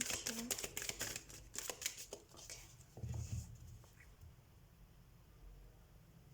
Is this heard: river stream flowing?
no